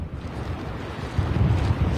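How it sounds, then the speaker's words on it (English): Strong wind gusts in a snowstorm along Highway 50 at Sierra-at-Tahoe roar and buffet the microphone in a dense, low rumble that swells louder partway through. "those gusts of winds are very strong here on Highway 50"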